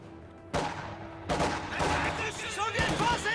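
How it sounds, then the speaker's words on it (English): Dense battle sounds from Company of Heroes 2, with repeated booming gunfire and mortar-like blasts in a busy, overlapping stream; a voice talks over the action throughout. "I hear a mortar firing."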